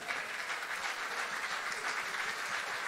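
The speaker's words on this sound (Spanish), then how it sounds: "quisiera dar un aplauso fuerte" Dense, steady applause from a concert audience at a tribute show marking 100 years of a musician's music, filling the whole stretch at an even loudness with no talk over it.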